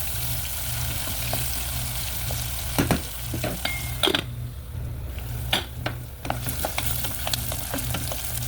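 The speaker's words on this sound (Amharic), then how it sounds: "እዚህ ጋር ትንሽ የቲማቲምና ሽንኩርት ጠበስኩኝ" Tomato, onion and carrot fry in a pan with a steady, close sizzle, broken by a few sharp scrapes and stirring knocks against the pan.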